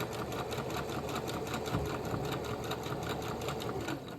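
A sewing machine runs in a continuous fast stitching whir while sewing a shirt being resized, its rapid mechanical rattle holding steady and fairly quiet throughout.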